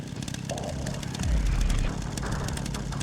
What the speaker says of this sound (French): viens prendre ton coup de tronçonneuse.